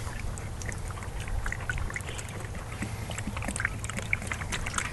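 Used transmission fluid pours steadily through a strainer, a continuous low liquid rush with small scattered splashes and drips over a constant murmur, close and moderately quiet, with no talking.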